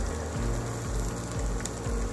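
Chopped garlic and ginger sizzle in a hot wok, a steady close crackle of frying held at an even level throughout, with low thumps recurring underneath.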